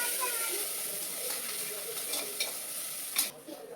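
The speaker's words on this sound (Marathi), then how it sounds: "अद्रक, लसूण, कोथिंबीर आणि हिरवी मिरचीची पेस्ट छान भाजली की तेलात" Ginger, garlic, coriander and green chilli paste sizzles steadily in hot oil with light stirring scrapes, a close, even frying hiss that swells briefly near the end.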